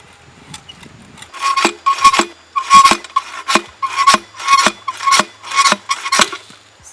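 Metal soil auger twisted to push out a soil sample, a series of about ten rough rasping scrapes in uneven rhythm, close and loud, with no talk.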